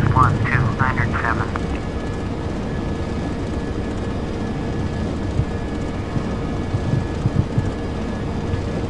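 Airbus A321-231 climbing after takeoff in Flight Simulator 2004, a steady, loud jet engine roar running throughout while someone talks over it at the start.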